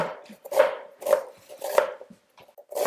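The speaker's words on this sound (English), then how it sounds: "So I'm gonna just chop up these onions." Onions being chopped with a knife on a board, four loud, close, evenly spaced chops roughly every half second with a few lighter taps between.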